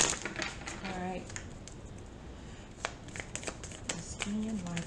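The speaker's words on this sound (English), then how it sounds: "One more shuffle, guys." Tarot cards are shuffled close up in a steady, crisp riffling patter with soft slaps and flicks, while a faint voice murmurs briefly in the background.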